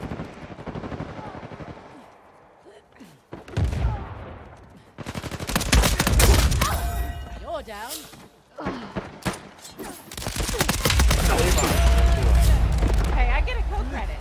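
Gunfire in an Uncharted 4 team deathmatch, loud dense bursts of rapid automatic shots that come in waves, one long stretch near the end, with quieter lulls in between and players talking over the action.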